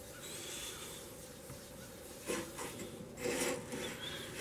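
Soft, steady rubbing of wax onto a turned spalted walnut vase, a faint dry rasp with two slightly stronger strokes near the end, quiet and close with no talking.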